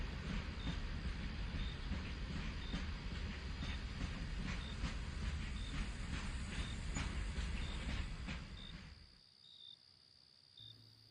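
A late-night train in a cartoon rumbles and clatters loudly and continuously with faint repeated squeals, then drops away abruptly to quiet near the end.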